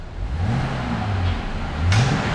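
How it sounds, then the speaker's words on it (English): A Jeep Gladiator V6 engine with a Corsa exhaust revs up twice with throaty exhaust, dropping back to idle in between, the second rev rising louder near the end. "listen to that V6 roar!"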